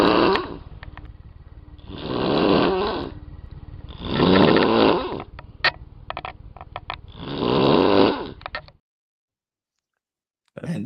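A person imitates snoring: four loud, rasping, drawn-out snore sounds in an even rhythm about two seconds apart, with small clicks and mouth noises in between, close to the microphone, then silence.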